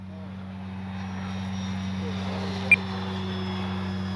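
E-flite Timber 10-year SE RC airplane making a low pass at a runway, a steady faint engine drone with a distant high whine over strong low hum and wind, one brief click near the end.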